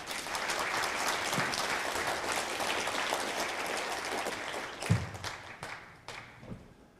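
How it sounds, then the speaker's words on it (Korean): Audience at a graduate school entrance ceremony applauds to welcome a psychology professor's special lecture, a sustained dense clapping that thins out toward the end with a few louder individual claps. "여러분들께서는 큰 박수로 마주해 주시기 바랍니다."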